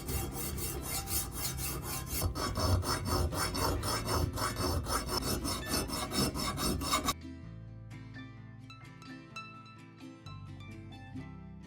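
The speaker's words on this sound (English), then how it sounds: "To sharpen the blade, I just took a hand file and started working on the bevel" Steady rasping strokes of a hand file working the bevel of a cast bronze sword blade, masking tape over the polished side, repeating rhythmically at close range before the filing gives way to softer, sparser scraping.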